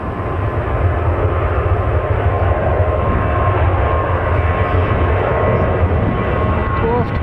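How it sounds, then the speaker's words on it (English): A Ryanair Boeing 737 bound for Belfast passes at Manchester Airport as a steady, loud jet roar holding level throughout, with a voice talking over it. "Going past in a moment or so will be a Ryanair going to Belfast,"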